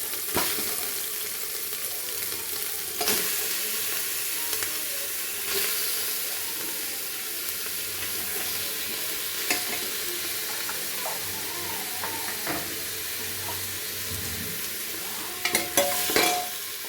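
Chicken pieces frying with onions in a pot for a winter chicken stew: a constant hissing sizzle with intermittent stirring scrapes and knocks, a few louder clatters near the end, no speech.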